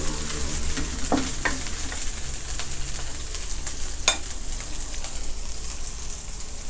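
Crispy pork being stir-fried with chili in a little oil, a steady bright sizzle throughout with a couple of sharp clacks of a spatula against the pan, close and moderately loud, no talking.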